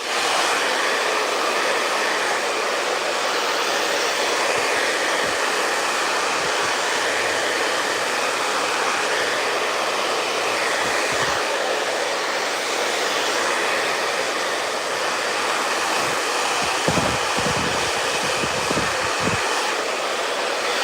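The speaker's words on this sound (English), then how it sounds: "I keep it like this while I'm blow drying it." A hair dryer blow-drying detangled hair gives a steady, loud, unbroken airy roar for the whole stretch, with a few soft handling bumps late on and no talking.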